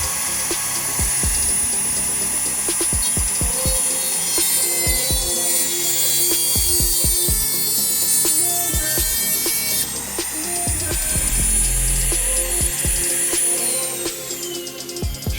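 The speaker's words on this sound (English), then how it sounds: "we're going to trim the first line here with the Dremel" A Dremel rotary tool trims a car's fuel line during a fuel pump and injector install, giving a continuous high-pitched whine with steady buzzing that runs loud and unbroken the whole time.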